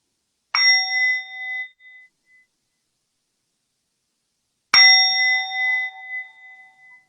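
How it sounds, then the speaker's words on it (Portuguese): A meditation bell is struck twice to begin a practice. Each strike rings out clear and bright, the first fading after about a second, the second ringing longer, with silence between them. "eu começo com o sino 2 vezes"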